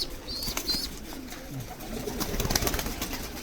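A large flock of pigeons and young squabs in Saudi Arabia coos in low, overlapping murmurs against a busy background, with a few brief higher calls and faint wing sounds.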